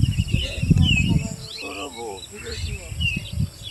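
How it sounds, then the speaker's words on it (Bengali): Birds chirping at dawn in a green Bengal village, faint thin calls and twitters scattered behind low rumbling noise and a person talking. "ভোরবেলা পাখির কিচিরমিচির শব্দ"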